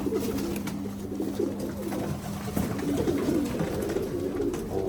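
White Posta pigeons coo softly and repeatedly at close range in a loft, a steady low burbling with faint bird calls and background noise.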